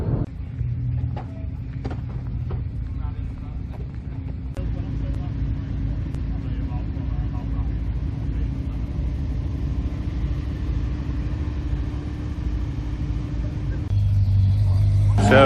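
An MG Midget race car with a 5-speed gearbox and a 4.55 differential rumbles at a steady idle for several seconds, up close and loud. Near the end the revs rise and the engine grows louder.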